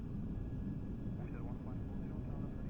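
An Airbus A320-200 in the Prepar3d flight simulator, climbing, heard from inside the cabin as a muted, steady engine drone and broadband roar with a faint passing whine, and someone speaking over it.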